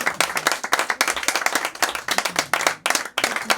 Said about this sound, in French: Un applaudissement pour toute cette équipe.